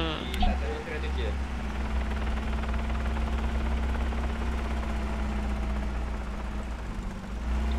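Helicopter in the Arma 3 game, a continuous near rotor and turbine drone with steady low thumping, holding at an even level throughout.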